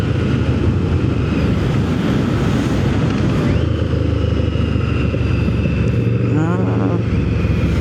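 A modified, non-stock Yamaha Vmax1700 motorcycle riding along the road, a steady loud engine drone mixed with heavy wind rush against the microphone, changing pitch briefly near the end.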